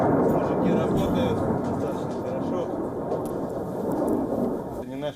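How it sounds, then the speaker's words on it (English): Russian Su-25 warplanes launching missiles in a combat zone: a loud, continuous broadband roar that rumbles steadily for several seconds and eases slightly near the end. "Russian news agency released a video of Russian Su-25 warplanes as they continue to launch missiles in the area"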